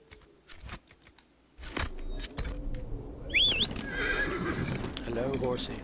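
In the video game Dragon Age: Inquisition, a horse gives a loud, shrill whinny amid clopping hooves and scattered clatter, with a voice talking over the scene.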